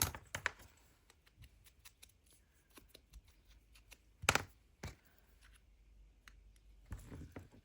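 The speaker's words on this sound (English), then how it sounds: "I'm just roughening it up a little bit with my scissors." Scissors roughen the edge of paper for a handmade junk journal, giving scattered quiet snips and scrapes at close range with long near-silent gaps between them and no talking.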